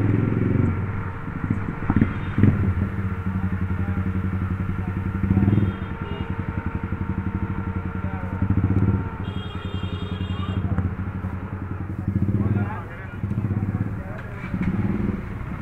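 A Yamaha MT-15 with an aftermarket exhaust rumbles and roars steadily nearby, overheated with its radiator fan running, with rattling clatter and occasional surges, under intermittent voices.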